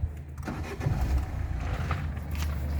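A Citroen C3 with a 1.4 HDI diesel engine cranks and starts, then settles into a steady low idle rumble heard close by inside the car.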